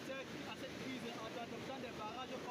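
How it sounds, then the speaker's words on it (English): Strong ocean breakers crashing on the shore at Kribi, a continuous roar of surf mixed with wind buffeting the microphone, fairly loud and steady through the short stretch. "As you can see, the breakers are so strong."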